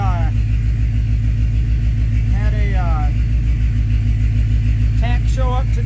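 A 1985 Toyota with a K20 engine idles cold at about 800 rpm, exhaust running, a steady low rumble heard up close while someone talks over it.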